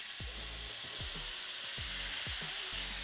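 Soy sauce and sugar sizzle loudly with noodles in a hot pan, a steady hiss of frying broken by repeated low scraping thumps as the food is stirred and tossed, with no voices.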